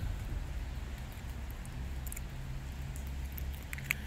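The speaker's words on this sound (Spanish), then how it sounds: "Está lloviendo." Rain patters steadily outdoors as a soft, even hiss with faint scattered ticks and a low hum underneath, continuous and fairly close throughout.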